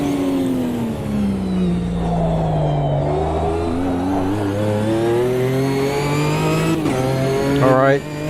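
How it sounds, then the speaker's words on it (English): A GT4 race car engine in the Automobilista 2 sim racing game revs and shifts on track at Montreal, a loud rising and falling drone with gear changes near the end while someone talks over it. "This car just sounds so good."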